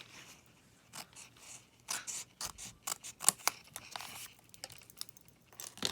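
Scissors snip and trim a paper piece in a quick, irregular series of faint, close crisp cuts with light paper rustling.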